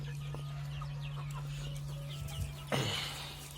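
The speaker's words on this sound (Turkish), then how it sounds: "Buradaki tavuklarımız büyüyor." Chickens cluck in a coop with soft, scattered clucks and short calls over a steady low mechanical hum, ending with a louder flurry of sound near the close.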